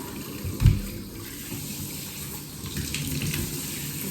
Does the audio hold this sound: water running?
yes